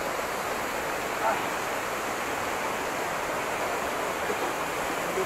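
A waterfall at Majayjay, Laguna, gives off a steady, broad rushing hiss, moderately loud and unbroken, with a brief faint voice or two barely showing above it.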